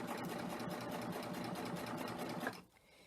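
A serger overlock machine stitches and trims fabric, its rapid mechanical chatter running steadily and close for over two seconds before cutting off.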